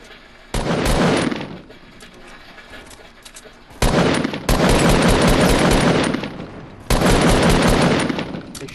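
Gunshots in a Fortnite match, loud rapid automatic bursts in three long volleys separated by brief quiet gaps, sharp and close, with no talking over them.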